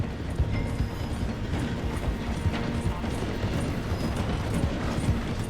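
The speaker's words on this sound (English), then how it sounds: "The train's slowing down to go through the station." Train in the video game Red Dead Redemption 2 slowing as it passes through a station, with rhythmic clattering of wheels and carriages mixed with hoof-like clip-clop beats, steady and fairly close.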